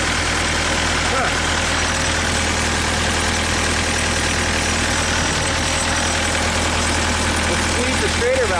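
A Perkins diesel engine idles on a Genie lift with a steady, loud low rumble and knocking throb that holds throughout, with faint voices briefly underneath.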